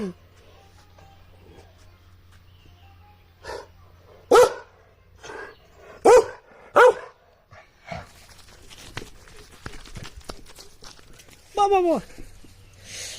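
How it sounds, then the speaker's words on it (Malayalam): Several dogs bark in sharp bursts spaced across the scene, with a whimpering yelp near the end, while people talk and call out in between. "ഡോഗുകളുടെ സമ്മേളനമാണോ ഏ കറുത്ത പട്ടികൾ കുറേ ഉണ്ട്"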